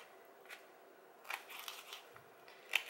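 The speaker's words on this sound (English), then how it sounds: "Now, I'm going to move this over, cut up some eel." A knife cuts through frozen eel for a sushi cake, giving faint, sparse snips and crisp clicks over quiet room tone, close by and without speech.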